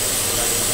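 A loud, steady hiss of steam escaping from the steam locomotive 4492 Bittern on the Dorset Coast Express, continuous and close, with no break.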